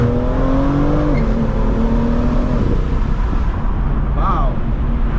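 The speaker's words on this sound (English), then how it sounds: "hearing the turbo spool up like that just gives you that sense of like you did something to the car" A BMW M2 with an N55 engine and a K&N intake drives along, its engine droning and rising as the turbo spools, loud and close inside the car while people talk over it.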